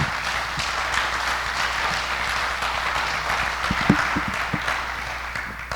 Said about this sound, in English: Big round of applause to Barry for another excellent talk.